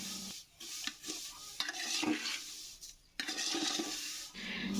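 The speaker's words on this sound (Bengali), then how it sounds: "তো চলো সিমাইটাকে একটুখানি ভালো করে ভেজে নিই" Vermicelli with raisins frying in hot oil, stirred in the pan: a steady sizzle with scraping strokes of the spoon, loud and close, broken by short pauses between stirs.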